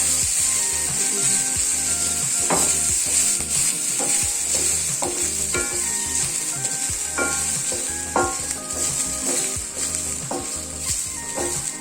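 Turkey berries sauté in oil in a pan, giving a steady close sizzle broken by repeated scraping stirs throughout, with no voices.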